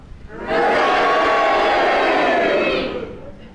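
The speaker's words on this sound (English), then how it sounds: "I think the cheers got it, don't you?" A studio audience at a radio panel game voting all together, a sudden loud burst of cheering and booing voices. It swells at once, holds as a dense roar for a couple of seconds, then fades.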